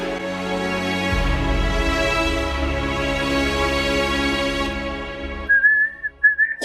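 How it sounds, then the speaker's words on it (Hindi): A person whistling indoors in a home, heard as a steady tone over a continuous hum and a layered musical background, with a brief rising whistled phrase near the end. "बंद करो सीटी बजाना।"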